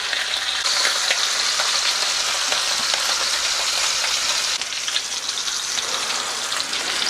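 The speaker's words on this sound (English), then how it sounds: "we want to sear all sides" Beef short ribs sear in a hot pan, a loud, steady, close sizzle that runs without a break, with a brief shift partway through as the meat settles or is moved.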